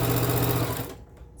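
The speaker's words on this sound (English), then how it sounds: "sewing down that right side" A sewing machine runs steadily, stitching a quarter-inch seam through patchwork minky blanket squares. The motor hums loud and close for about a second, then stops abruptly.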